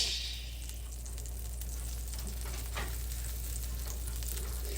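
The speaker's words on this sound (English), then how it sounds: "You hear that sizzle?" Butter melts and sizzles on garlic butter naan in a hot pan: a soft, close, continuous frying crackle, fairly quiet, with light scraping near the end and no voices.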